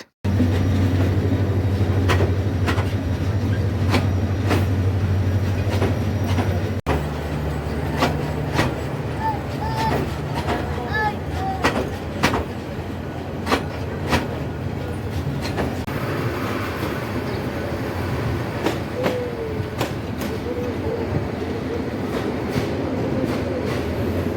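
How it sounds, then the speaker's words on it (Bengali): The Dhaka-bound Egarosindhur Express from Kishoreganj rolls into Kuliarchar station with a steady, loud rumble, low engine drone and repeated wheel clicks on the rails. "কুলিয়ারচর স্টেশনে প্রবেশ করলো কিশোরগঞ্জ থেকে ছেড়ে আসা ঢাকা অভিমুখী এগারসুন্দর এক্সপ্রেস"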